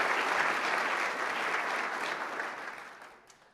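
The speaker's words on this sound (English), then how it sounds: "A round of applause for all of our sponsors" Sustained audience applause at a policy conference, a dense wash of clapping that fades out toward the end.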